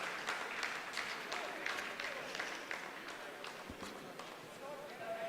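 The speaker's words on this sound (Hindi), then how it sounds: "जी हाँ, आप इस तालियों के गड़गड़ाहट को सुन सकते हैं" Scientists applauding in mission control during the Chandrayaan-3 moon landing, a faint continuous patter of clapping with scattered sharper claps, heard distantly beneath a speaking voice.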